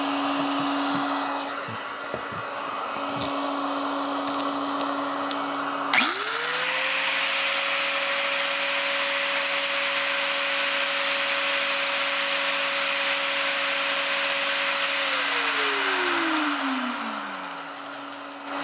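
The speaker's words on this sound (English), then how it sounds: "Let's plug in a grinder." An electric angle grinder powered by a Bluetti Elite 200 v2 power station clicks on, spins up to a loud, steady high whine close by for about nine seconds, then winds down gradually, with a hair dryer already blowing in the background.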